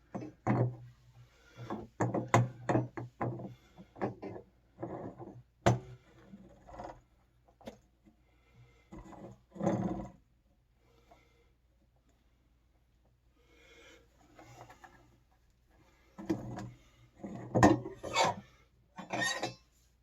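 A new element with gasket is threaded by hand into an electric water heater, giving bursts of close, scraping metal-on-metal rasps and rubbing in irregular clusters separated by quiet gaps.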